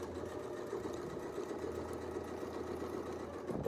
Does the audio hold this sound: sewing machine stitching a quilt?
yes